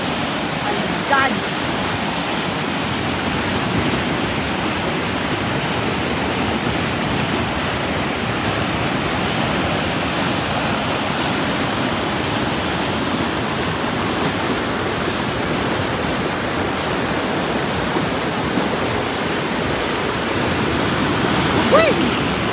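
Floodwater roars through a destroyed dam during Typhoon Agaton, a loud, continuous broadband rush that stays steady and close for the whole stretch, with occasional faint voices beneath it.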